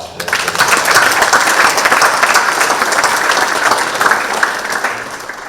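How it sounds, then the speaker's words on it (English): Loud, sustained applause from a crowd at a police chief's swearing-in ceremony in Walnut Creek, many people clapping steadily for over five seconds without letting up. "let's give them all a round of applause for their service."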